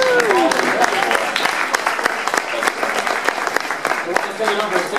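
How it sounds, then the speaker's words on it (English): Steady applause from an audience filling a grand hall at a university election-night event, loud and continuous throughout with a dense crowd texture and no pauses. "Could you give President Daniels a round of applause for being here this evening?"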